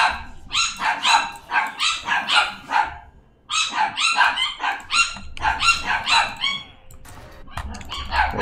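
A puppy barks in quick, high-pitched volleys, close and loud, with several rapid yaps grouped in bursts separated by short pauses.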